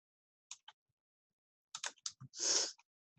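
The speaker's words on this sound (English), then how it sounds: "we're going to click inside the search document box, and we're going to type in lowercase Prairie" Typing on a computer keyboard while entering a search term into a Word document's search box, with a few sparse close clicks, then a quick cluster of keystrokes, in an otherwise quiet room.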